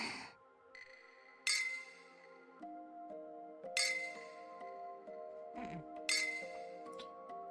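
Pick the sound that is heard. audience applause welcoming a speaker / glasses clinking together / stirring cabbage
glasses clinking together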